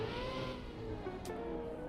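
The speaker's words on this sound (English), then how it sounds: "The rally car is definitely better." A rally car engine drones steadily in a racing video game, a continuous mid-level motor tone with slight pitch shifts and a brief burst of noise partway through, no talk over it.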